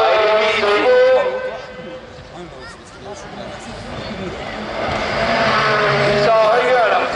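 Rallycross supercars race around the Kerlabo circuit during a French championship qualifying heat, engines roaring loudly and continuously with rising and falling revs as cars pass, under excited commentary.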